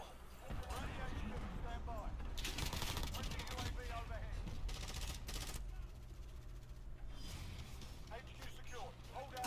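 Repeated M14 rifle fire from a Modern Warfare game sounds as sharp bursts of shots among other battle noise, with a voice talking over parts of the clip.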